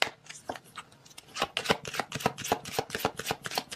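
Oracle cards shuffled by hand in a run of quick, crisp papery riffles and slaps, close and fairly quiet, picking up pace after a brief pause near the start.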